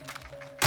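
Reloading a weapon in The Outer Worlds: a faint hum gives way to a single sharp mechanical clack near the end, close and abrupt.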